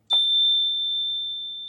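A bell used during a liturgy rings once with a sharp strike, then a single clear tone that holds and slowly fades, heard alone in a quiet room.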